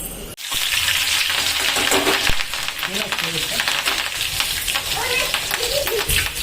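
Oil crackling and spattering in a hot pan while frying chillies and onions for potato poha, a dense loud sizzle with popping bursts, voices talking over it.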